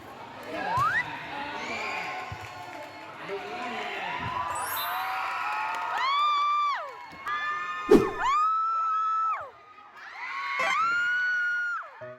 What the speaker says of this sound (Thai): การใช้เสียงกรีดนี้เป็นหน้าที่หลักของกองเชียร์